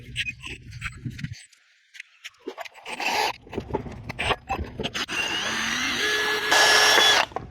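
A 5/16 drill bit cuts a hole in part of a Briggs and Stratton Quantum lawn mower engine: scattered clicks and handling noises first, then a sustained, close drill whine with a rising pitch through the final two seconds.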